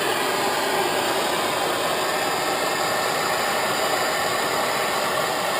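A MAP gas torch flame roars as a constant, loud, broadband hiss while burning carbon off a car spark plug, with no other sounds over it.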